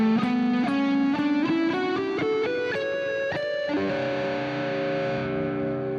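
Electric guitar through heavy distortion plays a G Lydian scale ascending note by note at a steady pace, ending on a sustained chord-like ring, loud and alone.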